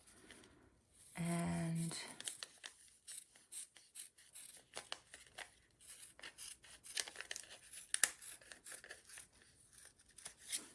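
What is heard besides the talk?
cutting fabric with snips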